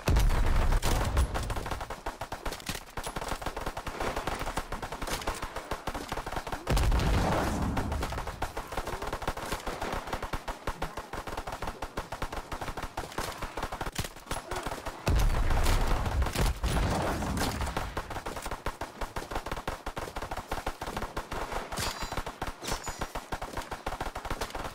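Dense, near-continuous automatic gunfire in a Call of Duty Zombies match on the Bodega map at round 30 with three players. Rapid bursts run loud and close almost throughout, with heavier surges recurring, and no talking.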